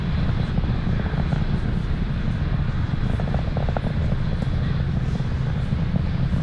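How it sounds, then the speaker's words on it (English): Falcon 9 rocket climbing through the sound barrier, heard as a steady, loud low-frequency roar with broadband rumble and crackle throughout, no voices. "You just saw there Falcon 9 transitioning to faster than the speed of sound."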